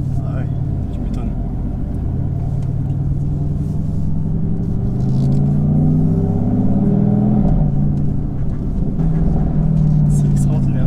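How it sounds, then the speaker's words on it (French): Deep V8 rumble from a tuned Mercedes-AMG GT S, Stage 2 with 605 hp, steady and loud throughout as heard from inside the car, with people talking over it. "D'origine, t'as cette espèce de son de V8."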